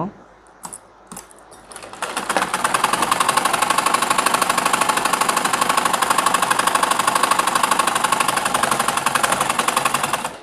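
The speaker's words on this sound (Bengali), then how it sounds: "এখানে চাপ সেলাই দিয়ে দিব" Sewing machine stitching trouser pajamas, a fast, steady mechanical rattle that starts after a few brief clicks and runs continuously up close.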